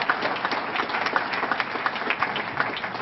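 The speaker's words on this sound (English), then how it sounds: "So I'll give Jim a wonderful round of applause." Steady round of applause from a crowd at a chamber of commerce awards dinner, dense clapping continuing evenly throughout.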